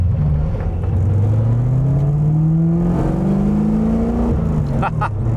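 Toyota AE86 Corolla fitted with a 1UZ V8 engine driving on a track, a loud, steady engine note climbing in pitch as it accelerates, close and dominant across the whole stretch.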